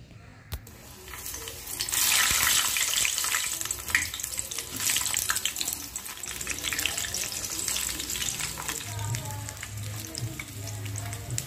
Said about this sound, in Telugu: ఈ నూనెలో ముక్కల్ని బాగా మగ్గనివ్వాలి